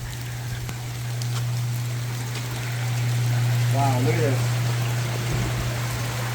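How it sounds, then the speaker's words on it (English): Rainwater streaming and trickling steadily across a property during a Southern California storm, a continuous watery rush with a steady low hum underneath, and people talking close by. "Oh my god, it's raining."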